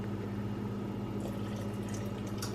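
About one and a half cups of water pours steadily into a blended butternut and acorn squash mixture, making a continuous, even splashing rush at moderate volume with no talking.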